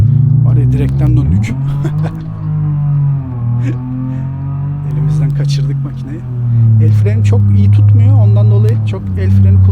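A BMW E34 525 engine in BeamNG Drive drifts along winding Italian roads, droning and revving steadily with pitch swells as the car slides, running continuously under someone talking throughout.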